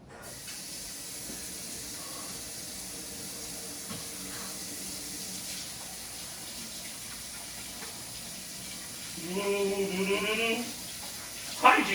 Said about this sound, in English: as soon as I wash my hands